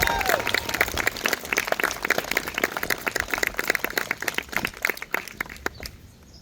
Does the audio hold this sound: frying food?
no